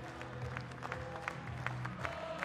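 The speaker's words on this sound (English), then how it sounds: "Their fans, even in the Czech Republic, cheering them on" Hapoel Jerusalem basketball fans clap and cheer in an arena in the Czech Republic, a steady wash of applause under a faint commentator's voice.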